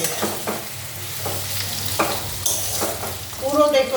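Okra and potatoes frying in oil in a pan, with steady low sizzling broken by stirring scrapes and clatter at intervals, growing busier toward the end.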